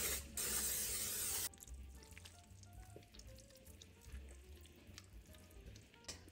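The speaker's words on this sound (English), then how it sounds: "we'll just spray this with nonstick cooking spray" Nonstick cooking spray hisses loudly from a can in one short burst lasting over a second, followed by quieter kitchen clatter and handling noise.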